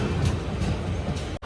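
The Tatanagar–SMVT Bengaluru Express rumbles past at a railway station in a steady, loud roar of wheels and carriages with faint rhythmic clatter, cutting off sharply near the end.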